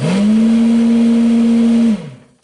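A homemade cab heater fan runs on its high setting with a loud, steady motor hum that holds for about two seconds before winding down and fading out.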